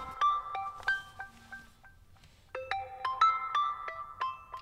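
A phone plays a melodic ringtone for an incoming call, a string of clear electronic tones in two bursts with a short pause between them, close and distinct with no voices over it.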